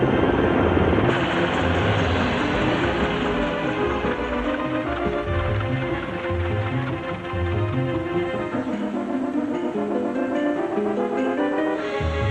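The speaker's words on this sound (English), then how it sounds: "The UH-60 Black Hawk helicopters raced in to rotate the troops." Loud, continuous thudding of UH-60 Black Hawk helicopter rotors with a droning engine, steady and close throughout with no voices.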